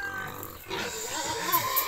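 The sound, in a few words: hungry pigs grunting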